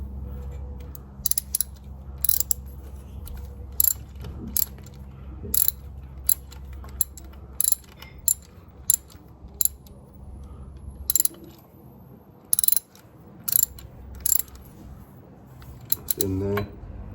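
Ratchet clicks come in short, repeated bursts as an NGK spark plug is tightened on a Rieju RS2 Matrix Pro 125cc motorcycle during a restoration, close up over a low hum.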